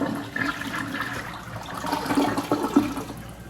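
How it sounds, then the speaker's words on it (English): A Project Source Pro-Flush white dual-flush elongated chair-height two-piece toilet flushes with a strong, rushing swirl of water that surges and gurgles steadily, close by with no talking. "that's a pretty powerful flush too"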